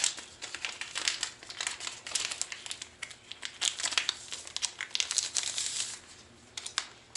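Orange crystal flash, a stretchy plastic tinsel material, crinkles and rustles close up as it is handled for tying a custom trout lure, with irregular crisp bursts running throughout and no talk.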